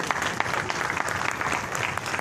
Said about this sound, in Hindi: इनसे जोरदार ताली हो जाए